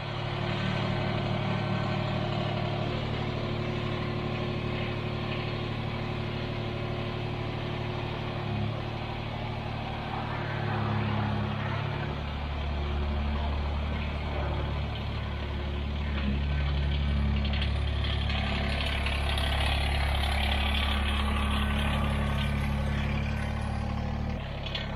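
A Kubota BX23s compact tractor's engine idles steadily outdoors in cold weather while warming up, with a constant low rumble that holds through the whole stretch at moderate loudness.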